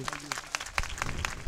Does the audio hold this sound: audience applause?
yes